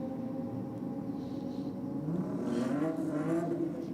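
A later model Toyota Supra accelerates off the line at a drag strip, its engine droning steadily and rising in pitch as it pulls away.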